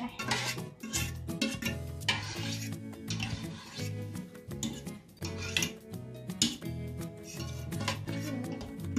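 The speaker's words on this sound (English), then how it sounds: "go ahead and scrape the bottom" A utensil scrapes and clatters around the bottom of a mixing bowl of pumpkin cupcake batter, in a busy, continuous run of close scraping and knocking.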